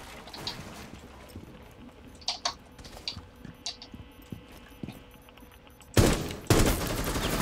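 Gunfire in the Rainbow Six video game on PC: scattered sharp shots and clicks through the first six seconds, then two loud, dense bursts near the end, with no voices.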